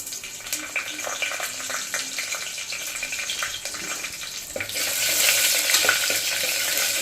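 Green chillies fry in a pan with cardamom, cloves and shahjeera for mutton dum biryani; a close sizzle with scattered stirring clicks swells into a louder, denser hiss partway through.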